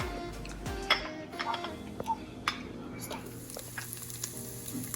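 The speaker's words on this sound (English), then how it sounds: "I'm gonna toss the Spam in to fry up." Spam dropped into medium-high oil in a pan and frying, a lively crackling sizzle with occasional clinks and scrapes of a utensil against the pan, near and fairly quiet.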